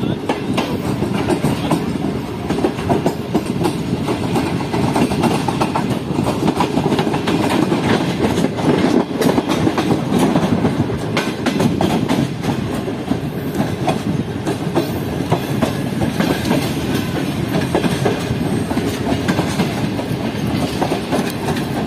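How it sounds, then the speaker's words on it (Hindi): Allama Iqbal Express train running on rails on a Karachi route, a loud, steady rumble with continuous clickety-clack of wheels throughout, heard from close by with faint voices in the background. "अल्लामा इकबाल की सवारी इस वक्त मौजूद है प्लेटफॉर्म पर, जो कि हमारे पीछे पीछे आ रही है ट्रेन।"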